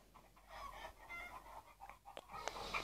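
A human voice imitates a chicken, producing a series of short clucking and squawking bursts that grow louder toward the end, with no other talk.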